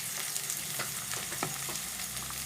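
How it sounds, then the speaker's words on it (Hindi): Capsicum and carrots fry in a pan with a steady sizzle, broken by occasional scrapes and stirring knocks. There is no talking. "इन सबको हम अच्छे से फ्राई कर लेंगे।"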